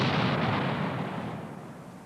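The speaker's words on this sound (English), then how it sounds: "clearing a field of fire may mean using the assault pioneers to provide a little heavier demolition" A heavy demolition blast set off by army assault pioneers in beechwoods, heard as a dense, broad rumbling roar that starts loud and slowly decays over about two seconds, with no voices.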